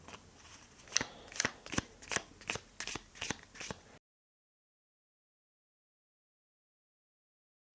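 Tarot cards being shuffled and drawn for a reading, a close, crisp run of about ten papery riffles and snaps over four seconds, then silence.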